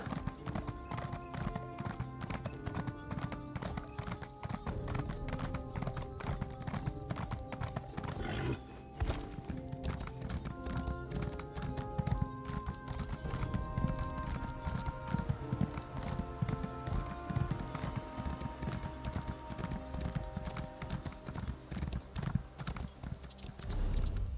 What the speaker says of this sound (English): I almost ran my horse into the damn wall.